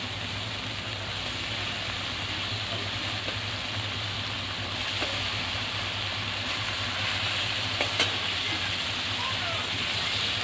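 Pieces of Bombay duck (lote fish) go into spice masala frying in a pan, a continuous close sizzling hiss with a low hum beneath and a few faint knocks.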